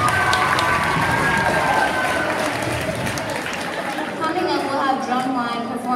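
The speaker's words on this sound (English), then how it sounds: "Applause." Audience applause at a school Black History Month program, a dense, steady wash of clapping mixed with crowd chatter and some shouts, sustained for the whole stretch and easing slightly toward the end.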